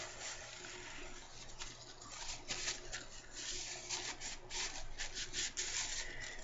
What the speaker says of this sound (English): So now I'm going to go ahead and just rub off my cleanser.